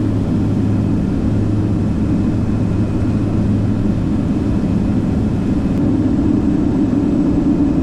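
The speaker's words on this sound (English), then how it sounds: "aircraft is ready for landing" Inside the cockpit of a King Air B350 turboprop on landing approach, a loud, constant low engine and propeller drone fills the cabin without letup, no voices.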